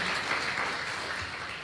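Brief, steady applause from a church audience giving praise to God, a dense wash of many hands clapping at moderate distance, with no talking over it.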